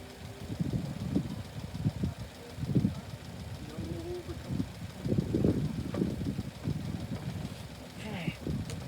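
Idling engine of a Honda car, a steady low rumble with rhythmic pulsing throughout, close and moderately loud, with some faint higher whine near the end.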